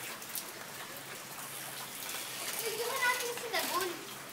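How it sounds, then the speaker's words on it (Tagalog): Rain falling outdoors in Cavite, a soft steady patter close by, while a few voices chatter and call out faintly in the background. "Kasi naulan."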